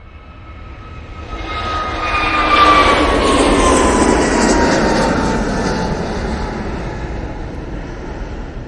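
An Airbus A321neo taking off from Manchester Airport, bound for Malta, sends out a broad jet roar that swells to a peak within a few seconds and then slowly recedes into the distance, with no voices over it.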